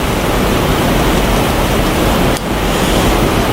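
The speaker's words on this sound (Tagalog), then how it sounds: "Lakas ng ulan, no?" Heavy rain pouring steadily, a dense, loud, unbroken hiss with no voices over it.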